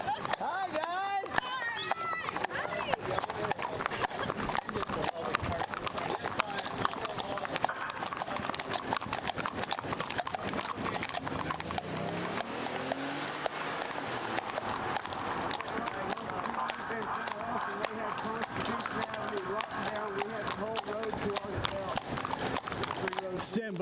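Horse hooves clip-clop steadily on pavement as riders travel through Washington, D.C., the rhythmic clopping running throughout beneath near continuous talk from several people.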